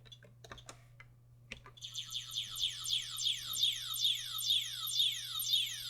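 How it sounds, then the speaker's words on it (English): A piezo speaker on a 1980 Texas Instruments TMS processor dev board plays a shrill, repeating run of quick falling electronic chirps, loud and steady, after a few keyboard clicks. "they made a tone command for the Piezo speaker there"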